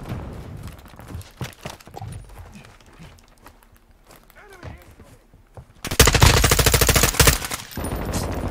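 M4 assault rifle fire in the Modern Warfare 2 video game comes as a sudden loud sustained burst after quieter game sounds and scattered footsteps, followed by another stretch of shooting near the end.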